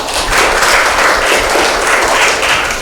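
A high school classroom of students applauds together, a dense, even burst of clapping close by that holds steady for nearly three seconds and starts to fade at the end.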